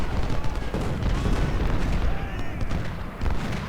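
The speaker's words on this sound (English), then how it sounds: "I want every artillery piece to shoot at Burnside" Cannon batteries pound away in a Civil War strategy game, Ultimate General: Civil War, at the First Battle of Bull Run: dense, overlapping booms and rumbling volleys, loud and continuous.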